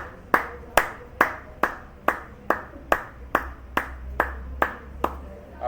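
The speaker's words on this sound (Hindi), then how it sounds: "अब सब लोग के लिए मैं ताली बजाता हूँ।" A single person clapping hands in a slow, steady rhythm, about a dozen sharp, evenly spaced claps heard close and alone over a low background hum.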